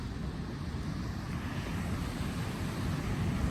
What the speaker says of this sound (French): Je vais dormir avec le bruit des vagues